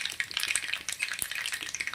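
Curry leaves and asafoetida hit hot peanut oil already crackling with popped mustard seeds, giving a close, dense sizzle with sharp spattering pops throughout and nobody talking.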